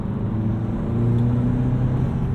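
Turbocharged 2017 Honda Civic Si with an aftermarket intake pulling steadily under acceleration, a low engine drone holding at a constant, close level throughout.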